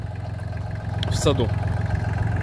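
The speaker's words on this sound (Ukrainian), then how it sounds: "Відгружаємо наш другий трактор вже за сьогодні." A Solis 26 compact tractor idles with a low, even chugging pulse while being loaded for shipment, steady and close, with a brief voice speaking over the engine partway through.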